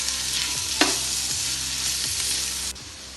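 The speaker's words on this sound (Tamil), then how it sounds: "இதை கொஞ்சம் நல்லா வதக்கிக்குவோம்." Onion, green chili and ginger-garlic fry in a pan for Bombay chicken biryani, a steady close sizzle with rhythmic spatula stirs and one sharp scrape.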